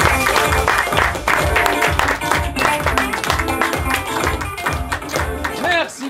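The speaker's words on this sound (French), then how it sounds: "Les applaudissements." Applause from an audience at an improv theatre show in Paris, dense steady clapping filling the whole stretch, fairly close and loud, tapering slightly near the end.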